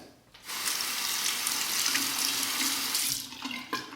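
A Parker 45R safety razor rinsed under a running tap, with water gushing steadily for about three seconds and then cutting off, followed by a few small clinks at close range.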